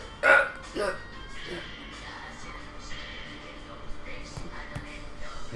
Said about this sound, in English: You got the spice hiccups, huh?